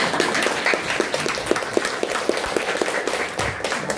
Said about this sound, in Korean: 이럴 때 박수 한번 더 치셨어요